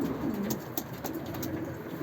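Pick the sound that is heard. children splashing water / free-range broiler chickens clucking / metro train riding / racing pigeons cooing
racing pigeons cooing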